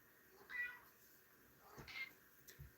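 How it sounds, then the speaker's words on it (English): A house cat meows twice indoors, faint and drawn out, about a second apart, with a short soft sound after, no talk over it. "You hear my cat?"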